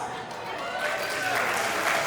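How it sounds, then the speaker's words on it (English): Wedding reception guests at Le Meridien Kuala Lumpur break into applause, a dense continuous clapping that swells slightly over two seconds, heard from within the room. "Can we kickstart the night with a thunderous round of applause?"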